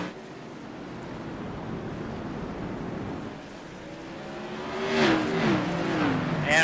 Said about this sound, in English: Hear those tires on the rumble strips.